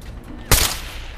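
A single loud burst of gunfire in Fallout 4 cracks out sharply midway through an otherwise quiet stretch, then decays into a brief rumbling tail.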